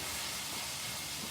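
Onions sizzle in a pan as a brief, even hiss with no distinct breaks and no speech.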